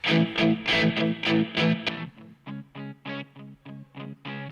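Electric guitar through a Softube Marshall Plexi Super Lead 1959 amp plugin with no reverb, strummed in steady rhythmic chords, bright and slightly distorted, with short pauses between strums and no voices.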